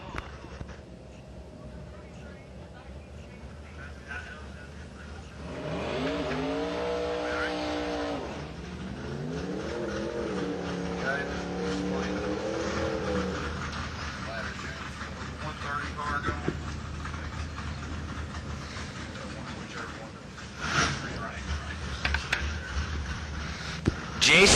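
A teal 1991 Mustang drag car with a small-block engine roars down a drag strip, rising in pitch as it accelerates and fading into the distance, with an announcer talking over it.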